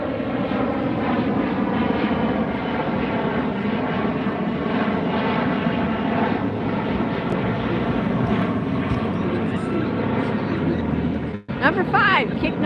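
An Alaska Airlines jet departs LAX, its loud engine roar sustained and close near the beach at sunset, continuing steadily under people talking before dropping away at the end.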